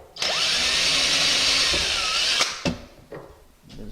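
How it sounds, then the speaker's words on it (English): A power drill whirs steadily for about two seconds, drilling a pilot hole in the center of a steel kitchen cabinet drawer face, close and loud, then stops, followed by a few light knocks and handling sounds. "Just drill your little pilot hole in the center."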